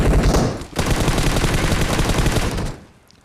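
Rapid automatic gunfire erupts in a video game battle at a military base, a loud, dense burst that breaks briefly and then rattles on before cutting off, with no talk.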